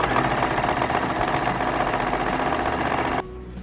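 Sewing machine stitching fabric, a close, steady mechanical whir with a rapid needle rhythm that stops abruptly near the end.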